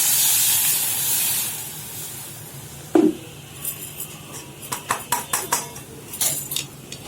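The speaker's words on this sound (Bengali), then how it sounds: "তো তেঁতুলের চাটনির জন্য এই যে কড়াই বসিয়ে দিয়েছি, আর এর মধ্যে দিয়ে দিচ্ছি হচ্ছে গরম জল" Hot water splashes into a wok set up for tamarind chutney, a brief hissing pour at the start followed by a sharp knock and a series of light metallic clinks and taps.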